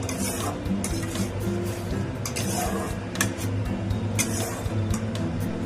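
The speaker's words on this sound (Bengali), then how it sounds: "এবার আমি কাজু আর মগজ বাটাটা দিয়ে দিলাম। আস্তে আস্তে নাড়বো" Cashew and poppy seed paste stirred slowly in a pan over low heat, a steady soft scraping with faint clinks of the utensil against metal and a low sizzle underneath, continuous and close.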